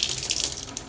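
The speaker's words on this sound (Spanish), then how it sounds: "Aquí está esto, lo voy a volver a enjuagar." Tap water runs steadily into a kitchen sink while chopped onion pieces are rinsed under it, a close, continuous splashing with no talk.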